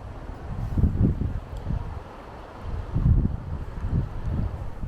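Strong wind outdoors at Falloch Falls in Scotland buffets the microphone in low, rumbling gusts that swell and fade, close and loud, with no one speaking.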